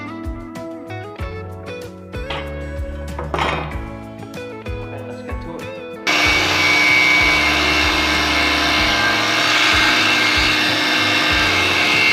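A power saw trims wood for a farmhouse coffee table: first a few seconds of rubbing, shuffling setup noises, then a loud, steady, close-up whining cut that holds unbroken to the end.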